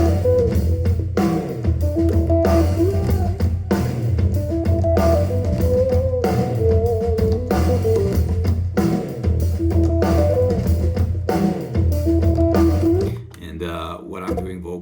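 An excerpt of a song plays as a full band mix with a steady beat and sustained harmonic layers, loud and continuous before thinning out near the end.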